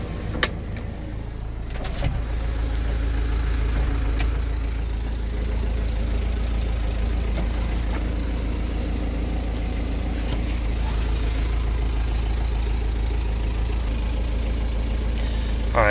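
A 2000 Mitsubishi Fuso FE-SP truck with a 4D34 four-cylinder turbo diesel idles steadily nearby, a low constant rumble with a few faint clicks and knocks.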